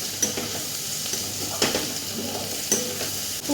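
Ground garlic paste frying in hot oil in a pan, a close steady sizzle broken by a few sharp stirring scrapes at irregular intervals, with no voices.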